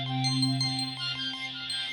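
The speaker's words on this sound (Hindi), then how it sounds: "मेरा फोन बज रहा है" A mobile phone rings with a repeating electronic melody of clear tonal notes, steady and close, with no voices over it.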